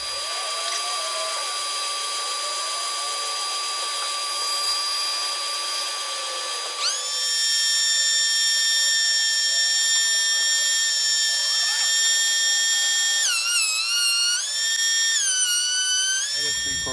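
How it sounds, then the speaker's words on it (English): A jointer and planer machine a sapele wood board, a steady high-pitched machine whine with tonal harmonics that shifts and rises partway through, running alone and loud through most of the stretch. "So I'm gonna joint this edge, and with this side being flat, I'll run it through my planer"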